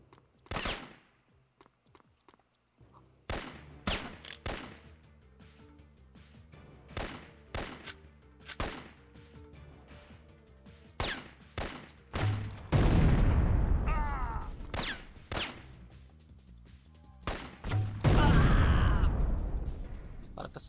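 Gunfire in the PlayStation game Syphon Filter, repeated sharp shots spaced through the clip with two heavier bursts of sustained firing, loud and close over a game soundtrack.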